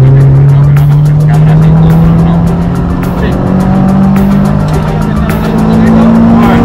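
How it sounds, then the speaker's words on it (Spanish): A car engine revs loudly and climbs steadily in pitch as the driver accelerates while turning the steering wheel, close and continuous, with tire noise and a voice talking over it. "Estoy abriendo volante y acelerando a la vez."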